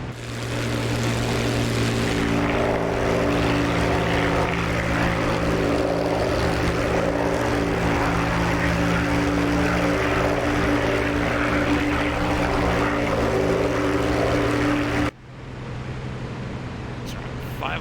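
A Bf-109 propeller fighter cruising in a flight video game near Saint Omer, its engine droning steadily and loudly with constant tonal hum for a long stretch before cutting abruptly to a quieter, thinner drone.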